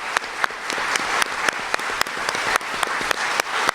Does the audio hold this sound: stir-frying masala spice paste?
no